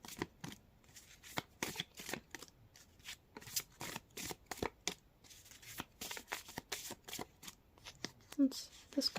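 A deck of tarot cards is shuffled over and over, with rapid riffling and slapping bursts at an uneven rhythm, close and fairly quiet, broken by brief pauses and a faint voice near the end.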